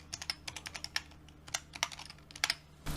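Quick bursts of keystrokes clatter on a computer keyboard, close and crisp in irregular clusters, ending with a louder thump of handling noise.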